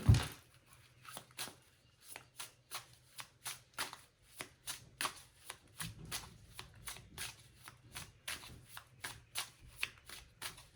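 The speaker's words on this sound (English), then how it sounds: "I'm gonna give these a good old shuffle" Cards are shuffled repeatedly up close, a steady series of crisp riffling bursts in a regular rhythm, quiet and without talk.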